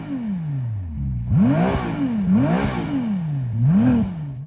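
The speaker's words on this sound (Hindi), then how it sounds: "इसका जो एग्जॉस्ट नोट है वो काफ़ी शानदार है।" Ferrari 296 GTB V6 engine revving up and down repeatedly, its exhaust note rising to sharp peaks and falling back, loud and close.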